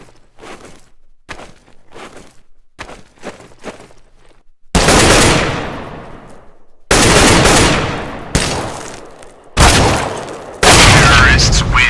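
Counter-Strike gunfire: a run of sharp, quiet shots and rapid bursts gives way to several loud, close blasts with ringing decay, separated by brief pauses.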